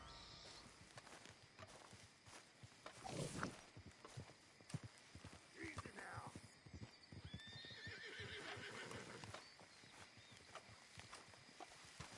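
A horse whinnies in Red Dead Redemption 2 amid clip-clopping hooves and ambient game sound, the neigh rising clearly over a steady background of footsteps and outdoor noise.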